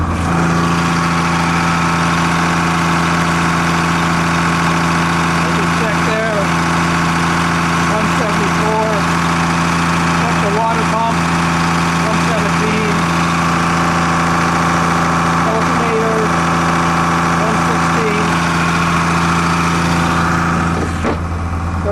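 A loud boat engine running steadily with its engine compartment flap open, a dense continuous hum and drone throughout, with brief speech partly masked by the noise.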